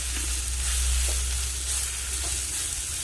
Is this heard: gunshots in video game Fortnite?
no